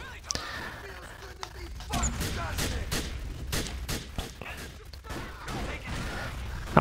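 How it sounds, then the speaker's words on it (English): Rapid bursts of gunfire and heavy blasts crack repeatedly over a rumbling low background in Grand Theft Auto: Episodes From Liberty City, loud and close, with a voice talking underneath. "I do tend to enjoy a good explosion"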